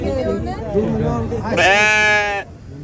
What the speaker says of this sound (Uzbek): Echki.